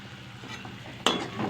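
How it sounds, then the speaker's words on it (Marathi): Ground masala paste and chopped tomatoes fry in hot oil and crackle gently while a spoon stirs the pan. A sharp clink of the utensil comes partway through, and then the soft sizzling goes on. "तर मी हे मिक्सरमधलं जे वाटण आहे ते आता इथं तेलामध्ये टाकून घेतलेलं आहे तळण्यासाठी"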